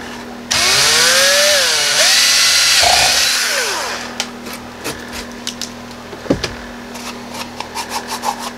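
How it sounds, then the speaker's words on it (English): A power drill whines steadily and loudly for a few seconds while drilling Kydex for a holster, its pitch shifting, then winds down into scattered clicks and taps. "so I'm just going to drill it with this"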